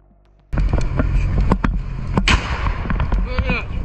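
A sudden loud blast erupts after near silence as a HIMARS launcher is destroyed, followed by crackling secondary pops and bursts continuing for a few seconds, with voices faintly mixed in.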